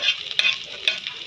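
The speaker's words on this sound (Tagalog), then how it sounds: "gigisa yung bawang" Garlic sautéing in hot oil in a pan for adobo, a steady close sizzle with two sharper crackling bursts and light stirring, no voices.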